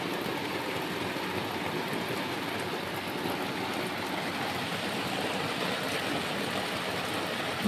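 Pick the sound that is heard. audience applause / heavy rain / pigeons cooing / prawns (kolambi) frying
heavy rain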